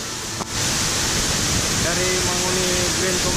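A waterfall rushes as a broad, steady roar that fills the whole clip, loud and continuous, with a brief knock near the start and faint tonal sounds drifting over the noise later on.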